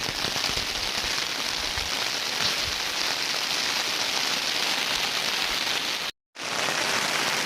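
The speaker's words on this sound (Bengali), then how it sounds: "বৃষ্টি খুব পরিমাণে আরম্ভ হয়ে গেছে" Heavy rain pours steadily in cloudy hill country around Kalimpong, a dense continuous hiss of drops hitting surfaces up close, with a brief dropout near the end.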